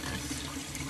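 Running water rinsing apple cider vinegar scrub shampoo out of hair, a steady close-up splash and trickle from a shower or tap, continuous with no talking.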